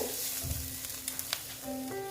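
Spice mixture with chili powder frying in a pan, a soft steady sizzle with light stirring scrapes, close and fairly quiet, no voices.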